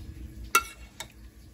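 A big spoon scraping and knocking inside a crockpot of sauce, two quick clinks about half a second apart over a quiet background.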